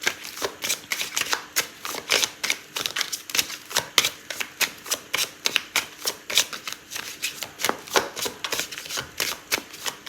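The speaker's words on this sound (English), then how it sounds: "I'll pull out a card to answer it" Tarot cards shuffled in a rapid, steady riffling rhythm of crisp paper slaps, close and clear, with a card drawn from the deck; no voice over it.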